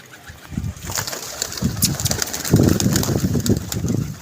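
Pigeons at a pigeon club, repeated low cooing and fluttering close by in a lively, irregular rhythm, with occasional sharper noises over the birds.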